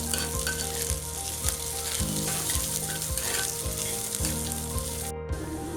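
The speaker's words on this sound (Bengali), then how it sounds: "কুচনো পেঁয়াজগুলো দিয়ে দিলাম। পেঁয়াজটা বাদামি হওয়া অবধি ভাজতে থাকবো।" Chopped onions fry in a little oil until brown for a taro and prawn dish, a steady close sizzle broken by regular scraping stirs of a spatula in the pan.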